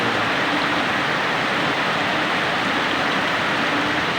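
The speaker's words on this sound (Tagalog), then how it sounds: "Ayan guys, ang lakas ng ulan." Heavy rain pours down steadily in a dense, loud, unbroken hiss that fills the whole clip, with no voices over it.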